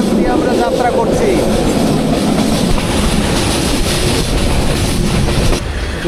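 Udayan Express passenger train from Chattogram to Sylhet running on rails at night near the border, with a loud, steady rumble and rhythmic clickety-clack of the wheels heard from inside the carriage.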